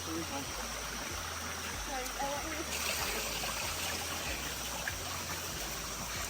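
A jungle stream below a waterfall in Minca runs as a steady, soft wash of flowing water. A few faint voices and bird calls sit over the continuous rush.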